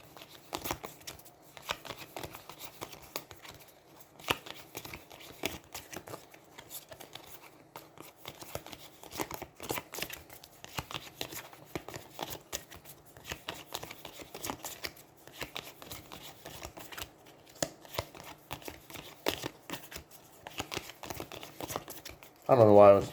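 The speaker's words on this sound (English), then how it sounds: "I didn't realize I was shuffling those." Playing cards are shuffled absent-mindedly at a tabletop during a solo Aeons End War Eternal session, with soft, repeated riffling and flicking running on and off throughout at low volume.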